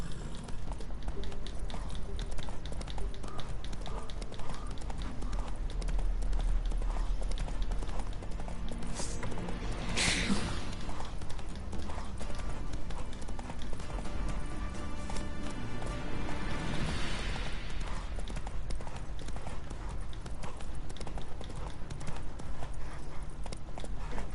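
Horse hooves galloping steadily at a fast rhythm in The Witcher 3, a continuous loud clip-clop mixed with ambient game sound and occasional snorts, with no talking.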